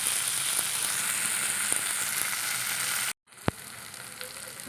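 Fiddlehead fern and egg sizzle steadily in a pan in an Assamese kitchen, a bright continuous frying hiss that cuts off briefly, followed by a sharp clink and quieter sizzling.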